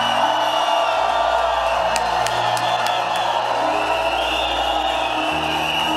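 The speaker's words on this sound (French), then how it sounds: "pousse des cris de triomphe" Church congregation shouting cries of triumph, a loud sustained crowd roar of whoops and yells filling the space, with a few sharp claps or bangs near the middle.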